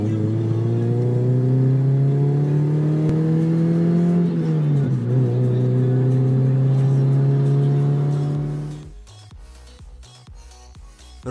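Mazda 323F 1.8 with a Remus straight-through exhaust accelerating hard, a loud, steady rising engine tone that briefly drops at a gear change, then climbs again before cutting off into a few sharp crackles near the end.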